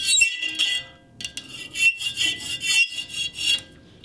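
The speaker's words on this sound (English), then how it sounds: "And now I like to make the surface a bit smoother by using a regular file." A surface on a headphone amplifier build is smoothed with a regular file, giving close, rhythmic rasping strokes with short pauses between them, and no talking.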